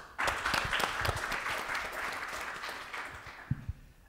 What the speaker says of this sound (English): Also applause for her.